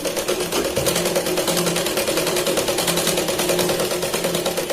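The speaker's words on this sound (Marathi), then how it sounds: "डबल शिलाई होईल इथे आणि स्लीव आपली बरोबर लागेल" A domestic sewing machine runs steadily while stitching the sleeve of a Katori blouse, giving a loud, fast, continuous mechanical rattle with an even rhythm and no pauses.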